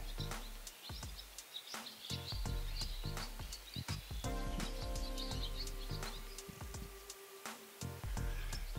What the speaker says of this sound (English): And the birds are playing, I see.